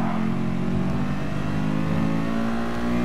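Group 4 race car engines from a Gran Turismo Sport beginner-league cup race drone steadily and loudly throughout, a continuous high-revving mechanical hum with no pauses.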